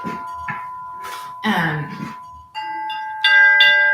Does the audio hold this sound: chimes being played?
yes